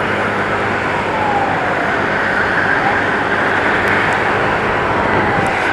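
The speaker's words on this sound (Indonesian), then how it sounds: "Kali ini lagi membantu satu unit ambulans dari RS1 War Medica." Ambulance siren from a unit escorted along the fast lane of a road while carrying a body to a funeral home in Sukolilo, wailing steadily and loud throughout amid dense traffic and wind roar.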